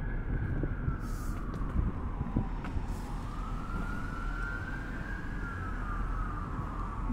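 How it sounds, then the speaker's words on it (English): An ambulance siren wails, rising and falling in the distance over steady hurricane wind and outdoor rumble, continuing throughout. "You just hear ambulances everywhere."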